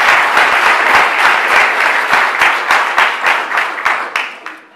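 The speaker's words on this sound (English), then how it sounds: "let's give a round of applause" Audience applause at an eighth grade projects night in a school hall: a burst of crisp, fairly close clapping that holds steady, then thins into separate claps and fades.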